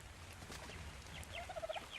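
A bird creature calls in the video game ARK Survival Evolved, giving a short gobbling, warbling run of notes near the end over a steady low game ambience, with no talking.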